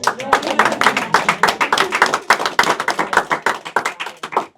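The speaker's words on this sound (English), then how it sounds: "Let's clap it up." A group at a Howard University gathering claps together in a quick burst of sharp, close handclaps, uneven in rhythm, with voices calling out over them.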